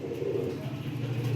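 Pigeons cooing at close range, soft low throaty coos repeating in a quick rhythm for a brief moment with no talking.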